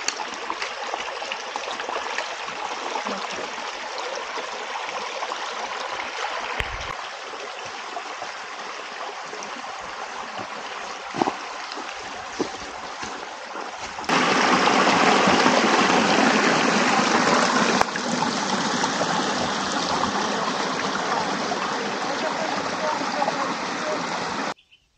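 A stream at the Fiumara di Tannera rushes steadily nearby, a continuous broadband wash that swells noticeably louder for a few seconds midway, with no talking over it.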